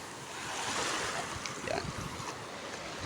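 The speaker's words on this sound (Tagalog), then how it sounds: "So ito yung dagat na ano niya" Sea surf in front of a beach resort, a steady close wash of breaking waves with wind rushing over the microphone.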